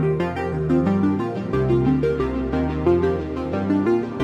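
Two sequenced synth voices from a Bitwig Grid patch, one running 8 steps and the other 16, play a busy stream of pitched notes in steady rhythm with no talking over them.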